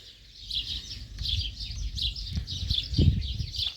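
Morning birdsong in a garden, several small birds chirping and trilling in repeated bright phrases at moderate distance, over a low outdoor rumble and an occasional thump.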